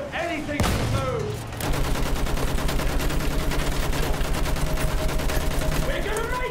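Gunfire in the video game Battlefield: one loud shot, then a sustained rapid burst of automatic fire in a tight even rhythm, loud and close, with faint voices in the background.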